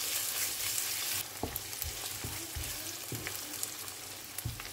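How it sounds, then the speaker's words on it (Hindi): Garlic, ginger and green chili paste fries with lightly browned onions for aloo gobi, a continuous close sizzle with a few soft stirring knocks throughout. "प्याज को लाइट ब्राउन करके हम इसमें लहसुन अदरक और हरी मिर्च का पेस्ट जो है वो ऐड कर लेंगे"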